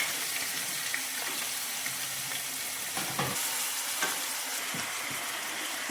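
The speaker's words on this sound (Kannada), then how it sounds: "ಈಗ ಈರುಳ್ಳಿ ಹಾಕ್ತಾ ಇದ್ದೀನಿ. ಈಗ ಸ್ವಲ್ಪ ಕರಿಬೇಕು." Chopped onions fry in hot oil in a pan for huli butti, a steady close sizzle that runs throughout. A few soft clinks and stirring scrapes sound now and then.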